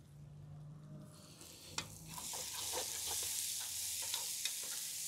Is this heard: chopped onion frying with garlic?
yes